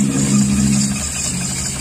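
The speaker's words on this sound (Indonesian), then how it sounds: "Ini adalah dinamo mesin cuci" A washing machine dynamo motor drives a homemade water pump built from a longtail boat engine setup, giving a steady, loud mechanical hum and whir with a faint rattle, running continuously and close up.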